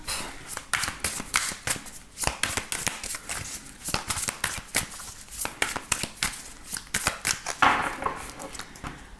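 Tarot deck shuffled by hand for a reading, a continuous run of close, crisp riffling and card slaps in an uneven rhythm with no talking.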